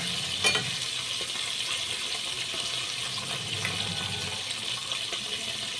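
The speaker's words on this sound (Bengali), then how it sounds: "এই মাছগুলো ভাজা হতে থাকুক" Tengra fish frying in hot oil with salt and turmeric, a steady, moderately loud sizzle running through the whole stretch, with a brief sharper crackle near the start.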